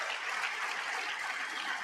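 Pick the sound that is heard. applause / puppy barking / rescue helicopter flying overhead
applause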